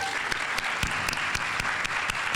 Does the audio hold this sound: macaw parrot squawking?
no